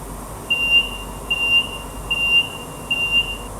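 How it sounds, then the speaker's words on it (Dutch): Eurotunnel carriage incident alarm: four evenly spaced, loud electronic tones, each a steady high pitch lasting about half a second, sounding over a low hum inside the train carriage. "Should an incident be detected in your carriage, the following alarm will sound,"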